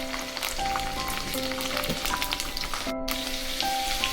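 Mustard seeds crackle and splutter in hot oil while tempering for a pumpkin tamarind stew (gummadikaya pulusu), a steady dense sizzle with quick pops, close and continuous.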